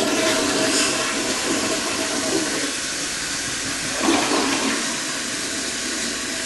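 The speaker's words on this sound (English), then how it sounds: "So let's flush this and let's see if that's enough water." A water-saving toilet flushes nearby in a loud, continuous hissing rush of water, swelling slightly partway through before settling, with no voices over it.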